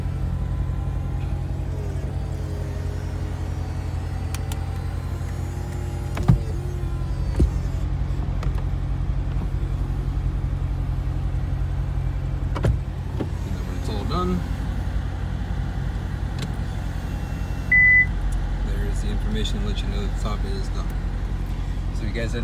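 A 2015 Corvette Stingray convertible top folding down: a steady low engine idle hum runs throughout, with a faint whirring motor tone rising and shifting as the roof mechanism moves, plus occasional small clicks.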